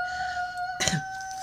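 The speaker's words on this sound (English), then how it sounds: "So you'll hear here, and Bubbles is my rooster" A rooster crows once, briefly and somewhat distant, over a steady high electronic tone.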